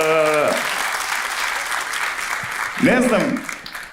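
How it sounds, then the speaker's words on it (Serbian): A stand-up comedy festival audience in Skopje breaks into steady applause after a voice speaks, the clapping continuing as someone talks over it again near the end. "Možete aplauz slobodno"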